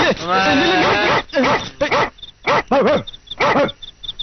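A dog gives several sharp barks and yips close by, mixed in with excited shouting voices, in short loud bursts with brief gaps between them.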